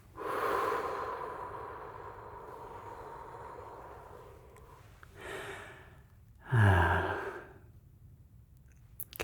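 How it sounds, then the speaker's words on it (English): A deep breath drawn in and let out during a calm ASMR doctor roleplay, soft and close at first, followed by a couple of sharper breathy bursts, one fuller and lower, over a quiet background. "Take a deep breath."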